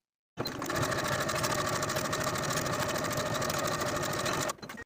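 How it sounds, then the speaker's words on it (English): Sewing machine stitching a dress placket seam at a 5/8 inch allowance, a steady loud mechanical whir running continuously for about four seconds before stopping abruptly. "Sew the placket in place with a 5/8 inch seam allowance."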